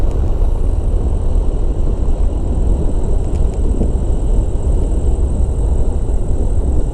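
Inside a flexwing microlight on landing approach, the engine drones loudly and continuously as the power comes back, under heavy rushing wind noise, with no speech heard.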